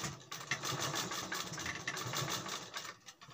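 Sewing machine stitching piping onto fabric, a fast steady mechanical whir with rapid needle ticks, close and moderately loud for a few seconds before slowing.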